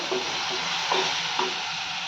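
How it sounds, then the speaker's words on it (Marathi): Sliced onions roast and sizzle steadily in a pan for whole masoor curry, a dense close frying hiss with a couple of soft scraping stirs of a spatula through the onions. "असा कांदा निम्म्या क्वांटिटीपर्यंत येईपर्यंत व्यवस्थित भाजून घ्यायचा एकसारखा"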